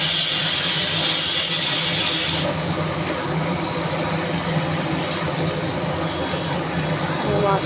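Coriander and turmeric powder masala fries in a pan with a steady, close hiss of sizzling oil, louder for the first couple of seconds and then settling to an even, lower sizzle.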